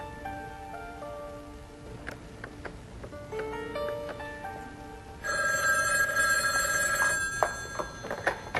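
Telephone bell ringing in repeated bursts, loud and close with no voices, its tone brightening and intensifying midway through.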